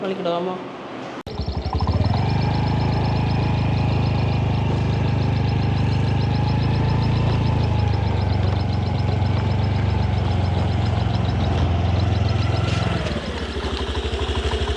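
A motorcycle engine kicks into life and idles steadily, loud and near, with a constant throbbing drone that eases off just before the end.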